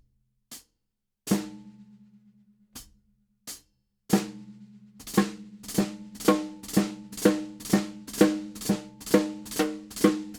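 Drum kit playing a four-way flam groove with hi-hat: a few sparse, sharp single hits at first, then a steady run of loud, evenly spaced flammed strokes that ring briefly, close and dry, with no voices.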